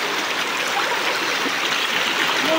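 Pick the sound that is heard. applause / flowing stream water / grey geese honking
flowing stream water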